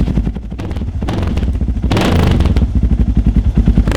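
Off-road motorcycle engine running close by with a steady throaty drone and rising revs, rattling and clattering along; no talk.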